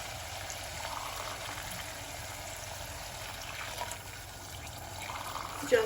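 Hot water is poured into a pot of barley vermicelli soup, giving a soft, steady trickling and splashing that stays fairly quiet throughout.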